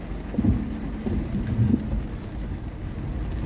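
Steady rain drumming on a car while driving in Kuwait, with a low rumbling engine and road noise underneath, fairly loud and continuous throughout.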